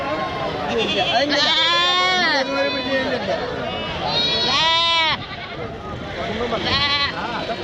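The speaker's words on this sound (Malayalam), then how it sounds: "വളർത്താൻ പറ്റിയ അടിപൊളി ആടുകളാണ്" Goats and young kids bleat repeatedly at the Vaniyamkulam livestock market in Kerala, with several wavering calls rising close by over a busy background of people talking.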